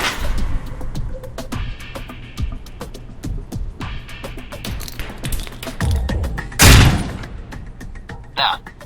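A grenade in the video game Alpha Protocol is lobbed behind a wall for a hook shot. Steady game thuds and taps lead to one loud, sharp blast near the end, followed by a brief high ring.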